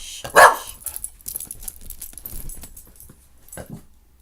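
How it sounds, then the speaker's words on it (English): A dog gives one sharp, close bark followed by softer whimpers and scuffling, with another short yip near the end. "Don't you start barking."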